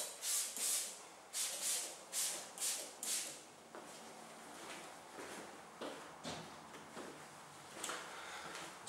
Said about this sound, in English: Spray the inside